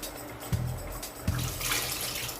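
Water poured into a cooking pan while making South Indian tomato soup (tomato saaru), a splashing, running stream with two brief knocks, close and alone.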